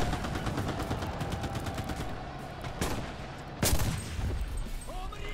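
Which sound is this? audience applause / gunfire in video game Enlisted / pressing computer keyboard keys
gunfire in video game Enlisted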